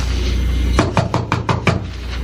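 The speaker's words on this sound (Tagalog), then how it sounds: "Bakit ganyan ka kumatok?" Six sharp knocks on a door in a dramatized Filipino domestic scene, struck in an even rapid series, close and loud over a steady low background hum.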